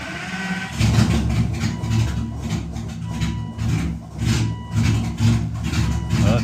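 An Aston Martin V12 engine, newly swapped into a car, cranks with a rhythmic churning and catches briefly in uneven surges, loud and close.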